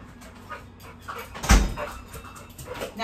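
An 85-pound pit bull whimpers and yips indoors while being let into the house, thin whines scattered across the moment with a louder thump near the middle, close by.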